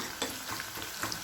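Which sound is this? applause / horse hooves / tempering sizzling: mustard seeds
tempering sizzling: mustard seeds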